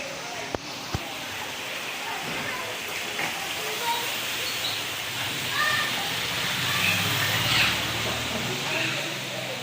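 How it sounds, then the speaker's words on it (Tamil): Heavy rain falls steadily, a dense hiss close by, with a couple of sharp knocks early on and faint voices mixed into the wash. "இங்கே பாருங்கள் சரியான மழை"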